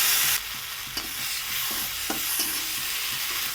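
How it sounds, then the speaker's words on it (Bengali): Ground cumin and chilli paste frying in the oil left from frying fish, with a continuous close sizzle and light stirring scrapes in a pan, no talking. "মশলাটা আমার ভেজে নেওয়া হয়ে গেছে"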